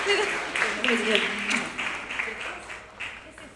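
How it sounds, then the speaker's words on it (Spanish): Applause from a Nerd Nite audience in Santiago, clapping loudest at the start and thinning out over a few seconds, with people talking over it. "un aplauso, por favor, gigante"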